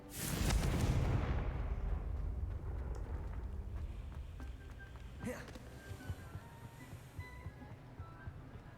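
A Confringo blasting spell in the Hogwarts Legacy video game, a loud booming explosion that rumbles and fades over several seconds, followed by a smaller crackle.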